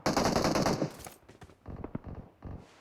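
Automatic gunfire in the mobile battle royale game PUBG Mobile, a loud rapid burst of shots followed by scattered single shots and shorter bursts.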